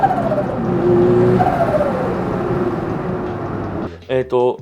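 Nissan Skyline R34 GT-R pulling under turbo boost on the road, a loud engine note rising in pitch through a gear, with a short burst of talk near the end.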